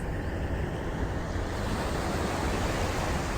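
Ocean waves roll in at Kata Beach in Phuket, Thailand, on a cloudy day, making a broad, continuous roar of surf mixed with wind rumble on the microphone, with no one speaking.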